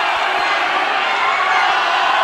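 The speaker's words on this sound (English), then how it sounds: "And the chant goes again for Oscar." A boxing crowd chants in support of 21-year-old Oscar Ledlin during a fight, a loud, steady wall of massed voices and cheering that fills the arena without a break.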